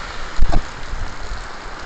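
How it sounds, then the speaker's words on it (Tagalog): Heavy rain pours outside a school as a steady, dense hiss, with a brief louder rush of splashing near the start and no talking. "Ayan, lakas ang ulan guys."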